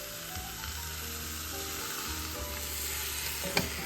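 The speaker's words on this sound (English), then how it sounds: "Saute for 2 minutes." Bone-in beef sautés with garam masala and spices in a pan, giving a steady, loud close sizzle with low hum and one sharp utensil clack near the end.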